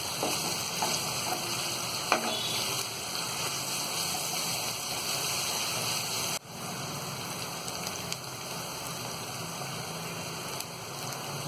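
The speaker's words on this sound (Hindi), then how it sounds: "तो यहाँ अदरक लहसुन का पेस्ट भी हमने भून लिया है।" Ginger garlic paste frying in a pan for dhaba-style aloo gobhi sabzi: a steady, dense sizzle like light rain, with faint stirring clicks and no talk throughout.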